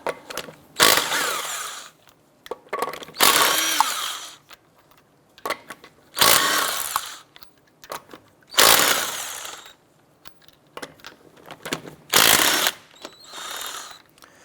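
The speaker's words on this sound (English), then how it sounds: "Using a 19mm socket, we're going to go ahead and remove our lug nuts." Lug nuts come off a Chevrolet Impala wheel with a 19mm socket, heard as five loud bursts of power-tool whirring, each about a second long, with quieter clicks and handling noises in between.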